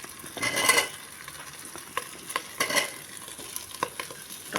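Chopped vegetables and tomato sauté in a pan with onion, green chilli and ginger for vegetarian khichdi, a soft sizzle running under repeated scraping strokes of a spatula.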